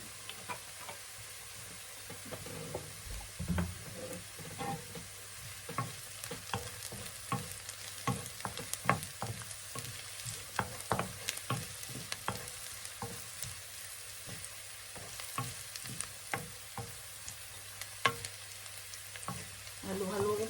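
Shrimp and garlic sizzle steadily in a pan while a utensil stirs and clicks against the metal in irregular taps, a continuous close frying hiss beneath the scattered knocks.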